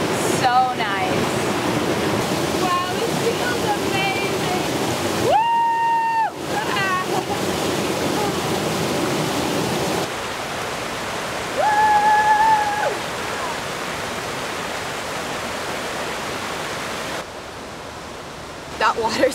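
Constant broadband rush of flowing water, like a river close by, persisting throughout with a few brief tonal interruptions and cuts.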